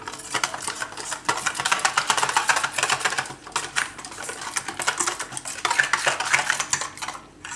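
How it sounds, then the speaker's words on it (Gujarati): Salt, coriander-cumin powder and turmeric are mixed in a bowl with a spoon for tandoori cauliflower, making loud, close, rapid clinking and scraping against the dish in busy continuous bursts. "હવે આ બધું આપણે મિક્સ કરી લેવું."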